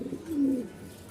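A Lahori pigeon gives a single short, low, throaty coo close by against a quiet background.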